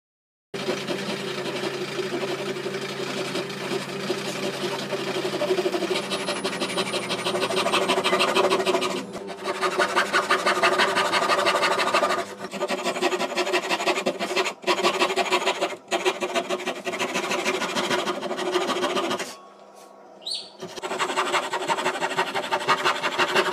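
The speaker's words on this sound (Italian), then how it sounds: "Ora per la prima volta provo a fare un incastro con la sega giapponese" A Japanese Ryoba pull saw rasps through wood, cutting a joint in fast, steady strokes, with brief pauses between runs of cutting.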